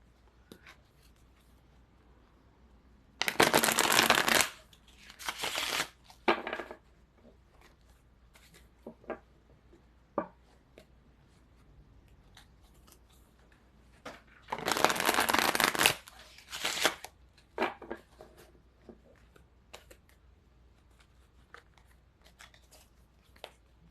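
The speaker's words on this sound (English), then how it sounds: "This deck is still very stiff. It's hard to shuffle it correctly." A stiff deck of tarot cards being shuffled, with two long riffling bursts and several shorter shuffles between quiet pauses, close and fairly loud.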